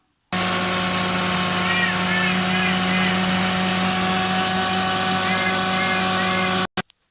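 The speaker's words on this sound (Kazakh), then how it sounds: "Қазір блендермен шайқаймыз." A blender mixing a chocolate shake drink gives a loud, steady motorized whir that runs continuously for several seconds, then cuts off abruptly with a couple of brief clicks at the end.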